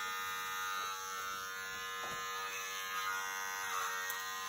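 Electric hair clippers run clipper-over-comb during a gents' haircut, a continuous close, steady motor buzz with slight changes in tone as they cut, no talking.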